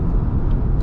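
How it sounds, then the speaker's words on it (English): A car passes a truck on the road, a loud, steady low roar of engine and tyre rumble heard from inside, with a faint hiss rising at the very end. "I was just getting past a truck there."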